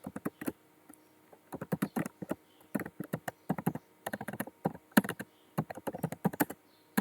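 Someone types a ChatGPT prompt on a computer keyboard, with close, crisp key clicks arriving in quick irregular bursts separated by short pauses.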